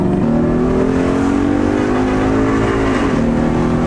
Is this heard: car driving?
yes